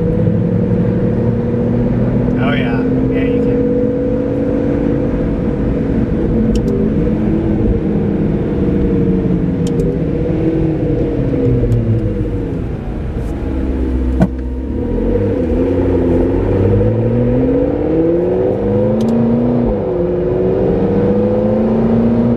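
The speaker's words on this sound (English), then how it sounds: "I love hearing the turbos" A McLaren 650S with a turbocharged engine, heard from inside while driving: a loud, steady engine drone rising and falling as it revs through the gears, with a brief dip partway through.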